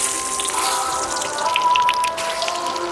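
Sliced potato chips drop into hot refined oil and fry for an egg chips omelette, giving a steady bright crackling hiss with scattered popping spits throughout, no voices.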